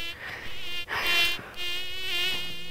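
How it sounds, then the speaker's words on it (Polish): Whining buzz of mosquitoes rising and falling in pitch as they hover close by, loud and continuous with a brief dip near the middle, no voices present. "Nie ma nic bardziej irytującego niż bzyczenie komarów,"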